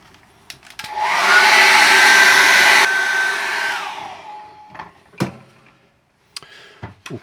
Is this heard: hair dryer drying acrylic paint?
yes